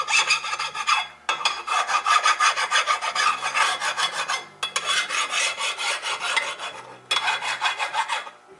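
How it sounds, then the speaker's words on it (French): A metal file rasps back and forth along the edge of a Rotax 600cc twin engine part in steady, close, rhythmic strokes, in three long runs separated by brief pauses. "Toujours passer la lime bord en bord comme ça"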